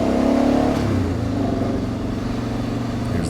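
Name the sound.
car engine downshifting on winding mountain road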